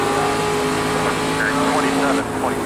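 Dirt street stock race car with a smashed-up front end, racing in iRacing: a loud, steady engine drone held close throughout, with brief tire squeal and a dip in revs near the end, while a driver talks over it.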